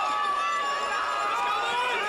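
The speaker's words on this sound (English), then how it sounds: "Huge cheers then from the German crowd." A German crowd cheers steadily at a para cross-country ski sprint, a continuous roar of many voices with whistling and shouting, dense and loud throughout.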